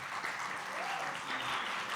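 Audience applause at a Latin American film forum greeting a newly introduced guest, a steady wash of clapping at moderate volume with no break.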